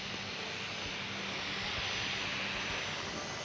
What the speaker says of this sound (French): Et là, on a un avion au sol qui va approcher